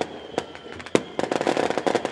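Firecrackers burst at a football match as the teams walk out, with a few separate sharp bangs followed by a dense run of rapid crackling pops, loud and fairly close amid crowd noise.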